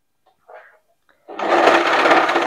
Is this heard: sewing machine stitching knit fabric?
yes